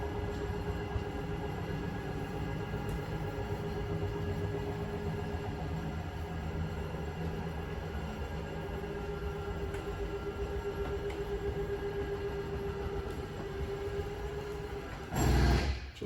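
The slide-out motor on a 2022 Pioneer BH322 camper extends the room with a steady, continuous mechanical hum and grind that lasts the whole stretch. It ends with a brief louder clunk near the finish.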